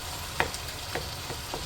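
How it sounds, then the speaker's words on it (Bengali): Boiled vegetables are stirred and tomato is mashed in a cooking pan, a few soft scraping taps over a quiet background sizzle. "এবার আমি এইগুলো একসাথে মিলিয়ে নেবো এবার, আর টমেটোটাও এবার এইভাবে ম্যাশ করে নেবো।"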